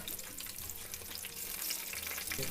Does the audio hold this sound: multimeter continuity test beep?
no